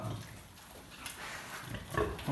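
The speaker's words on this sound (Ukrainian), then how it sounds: "Це свинка, якраз от із того самого виводка" A young pig from a litter on a small farm grunts and snuffles close by, soft rough bursts coming and going over a low background rumble, with no talking.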